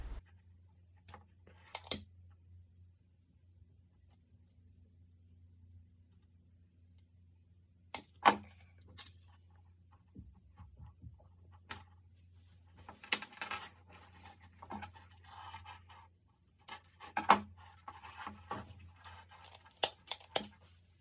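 Paracord being cut and its end burned while making a dog collar: a handful of short, sharp snips and crackles spread across a quiet stretch over a steady low hum, close and fairly soft.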